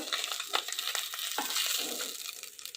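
Small freshwater fish frying in hot oil, a bright crackling sizzle broken by scraping and clinking as pieces are turned and lifted from the pan, close and fairly loud.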